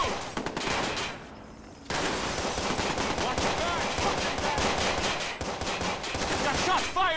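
Rapid automatic gunfire in the video game Watch Dogs, dense and loud bursts of rattling shots that pause briefly, then resume in near-continuous volleys, with a voice faintly underneath.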